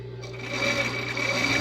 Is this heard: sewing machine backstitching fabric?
yes